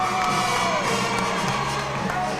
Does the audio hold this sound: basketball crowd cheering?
yes